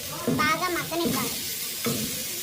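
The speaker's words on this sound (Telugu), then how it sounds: "బాగా వేగినాక అందులో తరిగిన 2 టమాటా ముక్కలను వేసుకొని" Chopped tomatoes sizzle in hot oil in a pan for fish curry, with stirring strokes scraping through a steady, close frying hiss.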